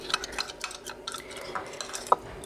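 A spoon clinks and scrapes against a small bowl while stirring castor oil into a homemade hair remedy, with light irregular taps and one brighter ding near the end.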